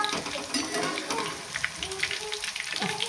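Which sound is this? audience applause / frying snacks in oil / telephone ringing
frying snacks in oil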